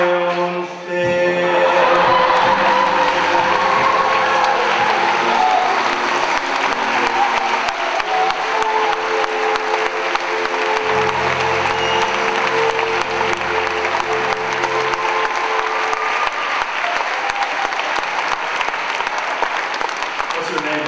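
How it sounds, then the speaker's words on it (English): Loud, sustained audience applause with cheering for Amanda at a live stage musical, continuous clapping filling the whole stretch with sung or spoken voices faintly mixed beneath. "Let's give a round of applause to Amanda, everybody."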